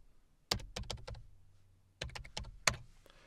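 Two quick bursts of keystrokes on a computer keyboard, a cluster of crisp clicks followed by a pause and a second cluster, close and fairly quiet in an otherwise still room.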